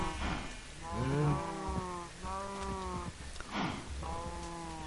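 Cows moo in the video game Minecraft, several drawn-out moos in a row at moderate volume with no speech.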